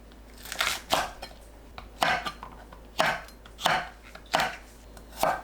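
A knife chops Cheongyang and red chili peppers into short pieces on a cutting board, about seven crisp, evenly spaced thuds close by.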